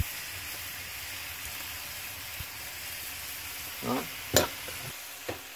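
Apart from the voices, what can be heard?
sautéing aromatics in a pan for tinola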